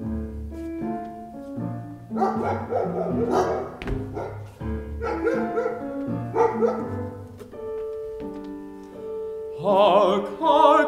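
Singers in an opera imitate dogs barking, a sung chorus of rhythmic bow-wow phrases with orchestral accompaniment, loud and close, rising to a brighter cluster of yips near the end.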